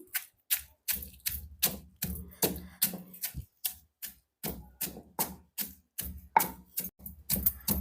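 Coarse salt and curry leaves being pounded in a mortar with a steady, even rhythm of sharp thuds, about two strikes per second, close and clear with no talking.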